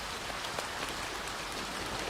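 Steady rain falls outside at night during a storm, a dense, even hiss of drops pattering without pause, close and moderately loud, with no voices.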